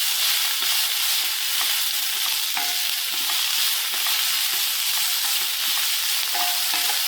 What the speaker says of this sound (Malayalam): ചേർത്തൊന്ന് വഴറ്റി കൊടുക്കാം.